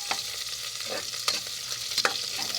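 Onion sautéing with garlic in a pan, a steady broadband sizzle running throughout with a few sharp scraping stir strokes, close and moderately loud, no voices.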